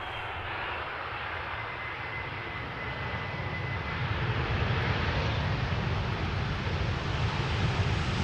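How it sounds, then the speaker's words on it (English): TUI Boeing 737 MAX 8 jet touching down on arrival at Amsterdam Schiphol in crosswind, a steady broad engine roar with wind rumble that swells slightly louder toward the end, no voices. "TUI 737 MAX 8 arriving from Ibiza, touching down after 2 hours and 17 minutes of flight"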